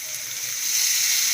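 Ginger and garlic sautéing in a pan for tomato rice, a steady soft sizzle and hiss of frying with no talk.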